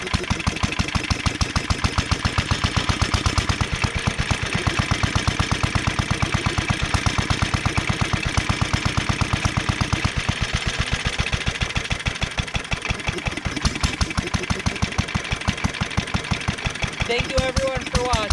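A 1947 International Harvester Model LB stationary engine with a governed throttle runs steadily up close, its even, rapid firing pulses keeping a constant beat with no pauses for the whole stretch.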